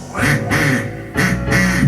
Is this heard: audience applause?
no